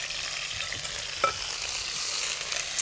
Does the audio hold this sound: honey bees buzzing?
no